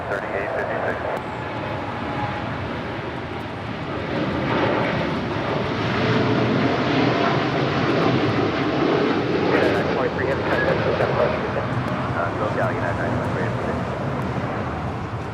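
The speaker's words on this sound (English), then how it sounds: "That is United Airlines 923 departing to London Heathrow on the 787-9 Dreamliner." A United Airlines Boeing 787-9 Dreamliner bound for London Heathrow departs LAX, its engines a loud, steady roar that swells slightly midway and holds, with wind buffeting the microphone.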